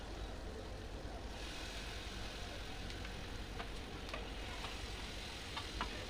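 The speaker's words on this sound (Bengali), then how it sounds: "বেগুন দিয়ে এখন এটাকে ভালো করে মিক্স করে দেব" Eggplant frying and being stirred in an oiled pan, a continuous soft sizzle with occasional faint scraping and clicking of a utensil, no voices.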